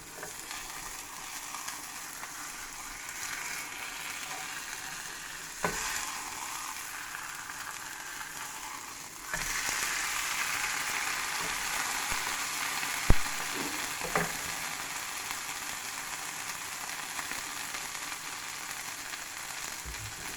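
A cheese burrito with mozzarella fries in a pan, giving a steady, soft sizzle throughout with a few faint clicks and a brief louder crackle partway through, no voices.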